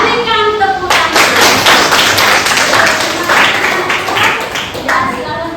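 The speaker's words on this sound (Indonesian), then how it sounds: "Berikan tepuk tangan." Schoolchildren in a classroom applaud together, a dense, steady run of hand claps lasting several seconds after a brief voice at the start.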